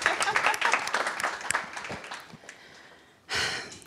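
Applause from an audience at a talk on venture fundraising for Black founders, a diffuse crowd texture that swells into a short, louder burst of clapping near the end.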